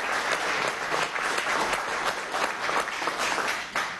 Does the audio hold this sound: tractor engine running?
no